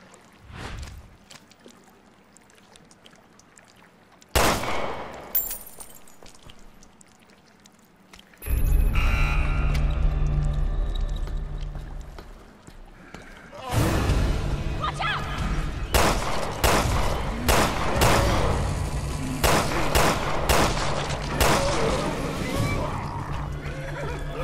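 Gunfire in the video game Resident Evil Revelations 2, aimed at knocking down an out-of-reach key: several sharp loud shots come in a cluster after a quieter stretch, over continuous game noise and background sound.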